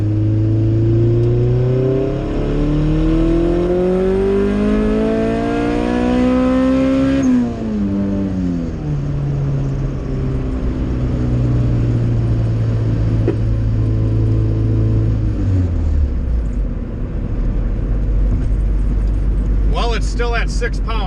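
Turbocharged B20 VTEC Honda Civic, boosting at about 6 psi, accelerating hard through the gears, loud engine tone climbing steadily, dropping at the shift, then climbing again in third gear before easing off near the end.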